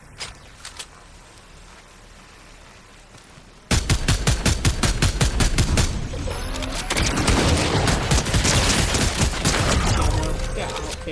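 Turret gunfire in Fortnite: after a quieter start with a few distant shots, a loud, rapid burst of regularly spaced rounds breaks out, then continues as a dense, sustained stream of firing for several seconds.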